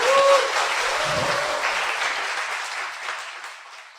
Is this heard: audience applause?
yes